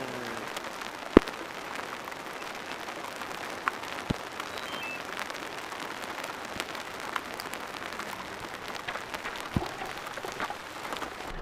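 Hailstones patter on a car while sheltering beside a dense forest, a faint, steady rattle broken by occasional sharper, louder hits.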